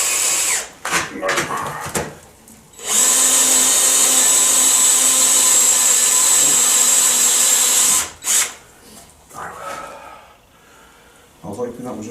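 A power drill bores into a broken bolt, whining loudly and steadily for about five seconds, then stops. Before and after the run come shorter revs, clanks and handling noises, and someone talks between them.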